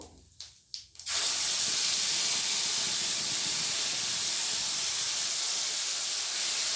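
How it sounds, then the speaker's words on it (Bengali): Bay leaf and cumin dropped into hot oil for a soybean curry, giving a few quick clicks and then a sudden loud, sustained sizzling hiss that stays steady and close, with no talking. "তেলটা আমার গরম হয়ে গেছে, আমি একটা তেজপাতা ফোড়নে দিলাম আর অল্প একটু জিরে"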